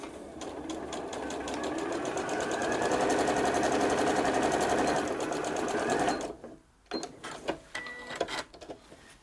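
A sewing machine runs steadily, stitching along the edge of a reusable kitchen towel for about six seconds, then stops abruptly and leaves faint handling clicks and rustles.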